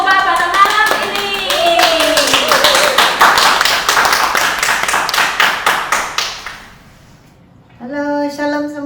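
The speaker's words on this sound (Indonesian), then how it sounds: "mari kita menggunakan tepukan yang gemuruh" At an evening church service, a congregation claps in a loud, fast, rhythmic burst alongside tonal voices or music. The clapping fades out and a sustained tone follows.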